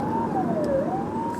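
Police siren from an unmarked police car on a city ring road, a single loud wailing tone sweeping down and back up, steady and close with traffic noise underneath.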